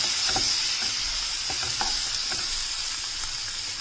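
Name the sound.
sliced onion frying in butter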